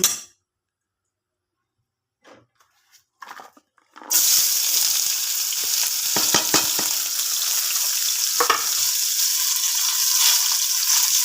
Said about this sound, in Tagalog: igisa lang natin ang bahagya ang ating sibuyas at bawang